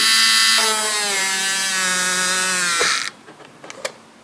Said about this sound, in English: I guess I'll just drill here and see.